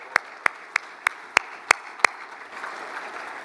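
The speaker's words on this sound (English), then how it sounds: "So how about a round of applause for that?" Several sharp isolated claps, evenly spaced, ring out at a lacrosse Hall of Fame induction ceremony, fading into a soft wash of distant crowd noise.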